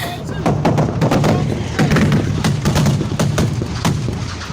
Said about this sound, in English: bullets are flying just everywhere